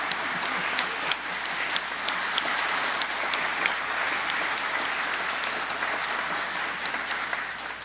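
A church congregation applauds its vocalist, steady sustained clapping across the room with a few sharper nearby claps standing out above the crowd.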